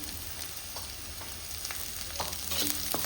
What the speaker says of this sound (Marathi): कांदा लाल तर हे करून मिक्स केले असा परतून घ्यायचा